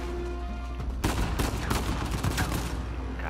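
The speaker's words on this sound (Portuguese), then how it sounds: "Tiro pra tudo que é lado" Rapid bursts of video game gunfire in Uncharted 4 crackle after a quieter start, a dense volley of sharp shots, loud and close, with no talking.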